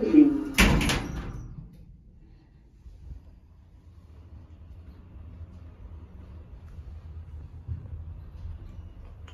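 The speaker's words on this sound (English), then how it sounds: "Doors closing." Otis lift doors in a shopping centre slide shut with a brief sharp clunk near the start, followed by a low, steady rumble of the car as it travels.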